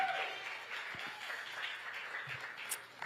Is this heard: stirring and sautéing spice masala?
no